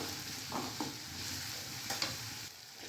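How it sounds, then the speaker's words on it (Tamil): Onions with green chilies and salt sautéing and being stirred in a pan, a faint steady sizzle with a few soft scrapes of the spoon, no voices. "வெங்காயம் வதங்கிறதுக்காக கொஞ்சம் சால்ட் ஆட் பண்ணிக்கலாம். நல்லா கலந்து விட்டுக்கலாம்."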